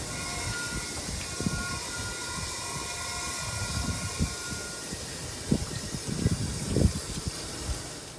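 Water rushes and gurgles through an RV water heater tank during a flush, a steady wash of noise with irregular splashing bursts growing stronger toward the end, close and without speech.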